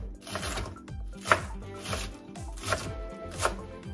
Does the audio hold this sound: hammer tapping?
no